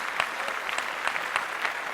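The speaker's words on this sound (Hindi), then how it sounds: "जोर से ताली" Loud audience applause fills a stage performance, a dense steady clatter of many hands clapping close and bright, with a few sharper claps standing out.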